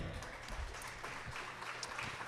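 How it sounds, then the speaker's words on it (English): A crowd claps steadily throughout at a Texas Angus cattle association luncheon in Salado, Texas, a dense patter of applause from a room full of people. "let's give all the Texas Angus members and dignitaries a big round of applause"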